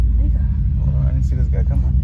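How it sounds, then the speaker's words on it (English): A pickup truck engine idles close by in a deep, steady rumble while a person talks over it. "can y'all hear the truck?"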